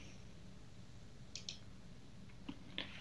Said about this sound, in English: Let's click on the departmental budgets.